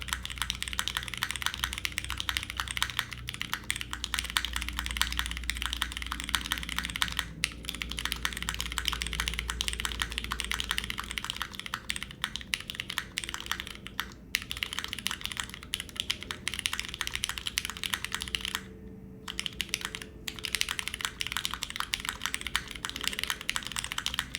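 Continuous rapid typing on a modded mechanical keyboard, dense clacky keystrokes close up with brief pauses, under a low background hum.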